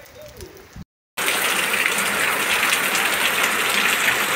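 Rain falling in the Brazilian sertão, a steady loud broadband hiss of rainfall after a brief gap of silence, with faint bird calls before it.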